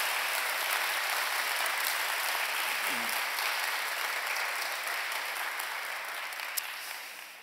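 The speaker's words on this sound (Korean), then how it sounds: "다시 한번 힘찬 박수 한번 해주실까요?" A church congregation applauds together during a worship service, making a dense, steady wash of many hands clapping that fills the room and slowly fades toward the end.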